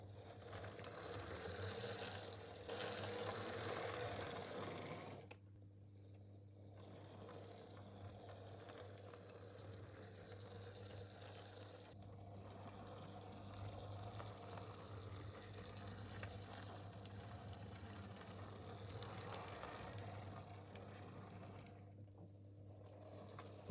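A Fleischmann HO scale DB electric model locomotive runs along track with a faint, steady mechanical whir and light rattle, close but quiet, with a few brief drops in level.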